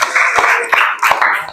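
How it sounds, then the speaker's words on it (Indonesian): A small classroom group of students claps briefly for a presenting group, several close, loud, uneven claps over a second and a half. "Tepuk tangan untuk kelompok"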